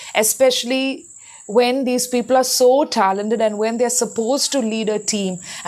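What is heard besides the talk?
crickets chirping in the background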